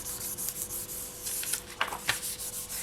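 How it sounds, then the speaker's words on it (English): Pieces are burnished down onto a tile for a retro pendant, giving soft, steady rubbing strokes close by, with a couple of sharper scraping swipes near the end; quiet and without talk. "I want you to burnish them to your tile, like so, so they're stuck down"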